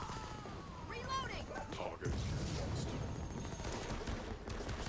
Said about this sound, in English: You see my little turret doing some action there.